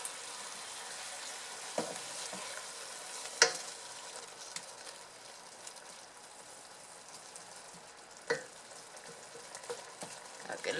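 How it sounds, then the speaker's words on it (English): Sofrito sautéing in a pan for Spanish rice, a soft, steady sizzle that stays fairly quiet throughout, broken by a few sharp utensil clicks and scrapes, with no talking. "let's go ahead and just let the sofrito kinda saute a little and develop its flavor and get really aromatic"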